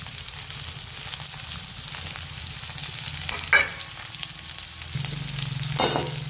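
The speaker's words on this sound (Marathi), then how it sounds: "कांदा चांगला लाल होऊ द्यायचा तेलामध्ये" Sliced onion frying in oil in a pan for a kurdai bhaji, a continuous close sizzle with a few louder stirring scrapes and clinks, no voices.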